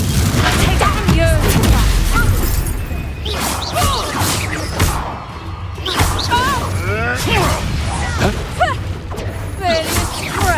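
A Confringo fire spell exploding in the Hogwarts Legacy video game: loud booming blasts, crashes and whooshes in a busy combat mix, with voices talking over the action.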